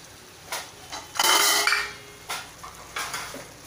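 Washed rice being stirred into spiced vegetables in a metal pot: a spoon scrapes and knocks against the pot several times, with one longer grinding stir followed by shorter scrapes, close and clear with no voice.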